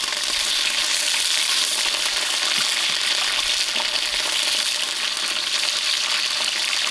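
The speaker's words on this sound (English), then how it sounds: "I'm putting in my curry leaves and my thyme." Curry leaves and thyme frying with browned onions in a large pot over an outdoor fire for a 25-person vegetable biryani, a steady loud sizzle with no talk.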